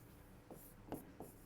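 Pen writing on paper during a handwritten English application for a school, with three short scratchy strokes spaced about half a second apart, faint and close, with no talk.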